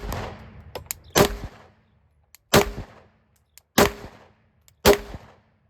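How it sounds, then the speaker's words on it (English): A micro pistol fitted with a budget red dot sight fires four sharp, loud shots outdoors in daylight, each spaced about a second apart with a brief ringing decay and no talking. "Let's fire a couple rounds into this guy just so you can kind of see the recoil."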